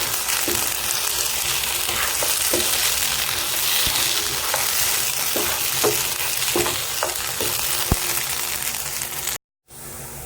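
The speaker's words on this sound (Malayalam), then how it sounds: "നമുക്കിതിൽ നന്നായിട്ട് മിക്സ് ചെയ്ത് ചേർക്കാം" Chilli fish gets stirred and mixed in a frying pan, with a steady sizzle and repeated spoon scrapes and taps against the pan, ending in a brief cut to silence.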